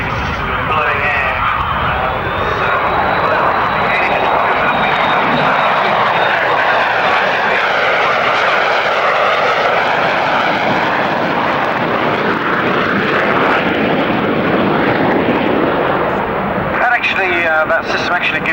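Carrier jet aircraft making a flypast with undercarriage and arrester hook lowered at the 1992 RAF Finningley air show, a loud, sustained roar that swells and shifts in pitch as it passes, with a voice talking over it.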